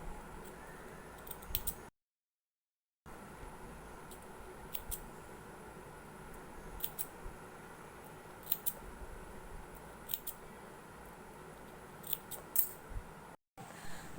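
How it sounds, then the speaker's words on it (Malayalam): Scissors make a run of small snips around a fabric neckline lined with canvas, giving quiet, sharp clicks at irregular intervals over a soft steady background with a brief silent gap. "ചെറിയ ചെറിയ കട്ട് ഫുള്ളായിട്ട് നെക്കിന് ഇട്ട് കൊടുക്കാം"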